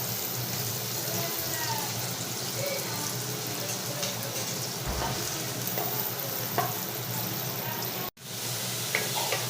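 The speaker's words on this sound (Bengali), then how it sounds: "এবার পেঁয়াজটা ছেড়ে দেবো আমি এই তেলেই পেঁয়াজটা ভেজে নেব" Onions frying in hot oil in a pan, a dense steady sizzle with occasional stirring clicks and one abrupt brief dropout near the end. Faint speech may sit under the frying.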